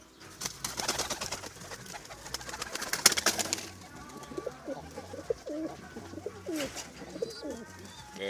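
Pigeons coo repeatedly in a series of soft, throaty, rolling calls, close by, following a stretch of busy wing flapping and fluttering from the flock; a voice is faintly present.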